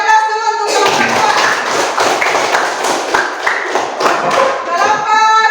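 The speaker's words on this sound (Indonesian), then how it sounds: "Beri aplaus dulu untuk kelompok" A classroom group claps for presenting students, dense loud applause from many hands that rises quickly, holds steady, then thins out, with faint voices underneath.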